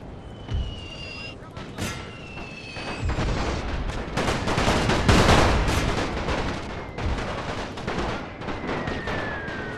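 In the World War I strategy game The Great War, artillery and rifle fire crack and boom in overlapping volleys that build to a dense roar midway, with shells whistling overhead.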